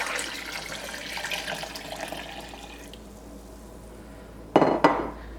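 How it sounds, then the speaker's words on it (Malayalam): Cold water is poured into lime juice with pineapple pieces in a glass, a soft splashing pour for about three seconds, followed by a couple of sharp clinks near the end. "ഇതിലേക്ക് 2 ഗ്ലാസ് വെള്ളം ചേർക്കുക. വെള്ളം ചേർക്കുമ്പോൾ നല്ല തണുത്ത വെള്ളം ചേർക്കുക."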